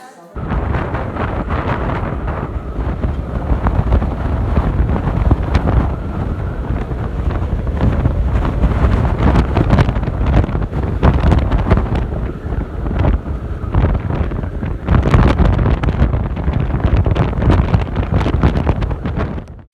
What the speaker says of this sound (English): the storm kicked off with some heavy rain and increased winds